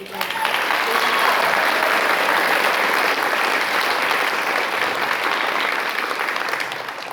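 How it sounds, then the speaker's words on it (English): Sustained audience applause for a chorus at a summer community performance, a dense wash of clapping that holds steady and loud for several seconds before easing slightly at the end. "So please give them a round of applause."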